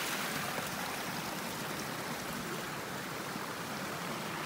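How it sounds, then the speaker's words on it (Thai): Mountain water trickles and flows down between rice paddies in rural Chiang Mai, a steady, even hiss of running water with no pauses and no talking. "ระหว่างร่องนาก็จะมีแบบเนี่ยครับน้ำตกไปเรื่อยๆ"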